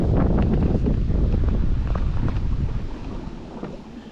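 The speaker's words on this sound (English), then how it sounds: "The wind's picked up a fair bit." Steady wind roars and buffets the microphone on the Glenelg River while fishing for black bream from a boat, with water lapping underneath; the gusts stay loud throughout and ease slightly toward the end.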